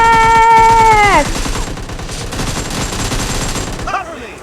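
Rapid automatic gunfire crackles through a PUBG Mobile Lite team deathmatch, following a sustained descending electronic tone, loud and dense before easing slightly near the end.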